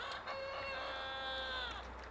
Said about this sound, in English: There's the rooster learning how to crow